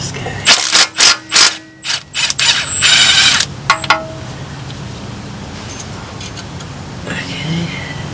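A ratchet clicks in quick bursts while backing out the oil pan bolts on a 2005-2010 Hyundai Sonata with the 2.4L engine. Sharp clusters of ratcheting come near and loud early on, then sparser clicks and quiet shop background follow.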